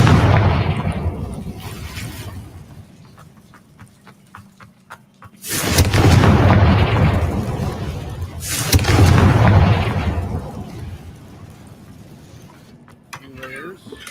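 Two heavy booming blasts from the Confringo fire spell in the Hogwarts Legacy video game erupt a few seconds apart, each swelling and fading slowly over quieter game ambience, with a voice speaking in places.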